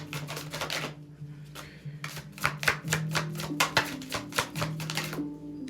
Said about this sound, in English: I'll do a reshuffle.